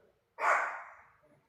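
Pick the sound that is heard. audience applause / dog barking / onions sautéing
dog barking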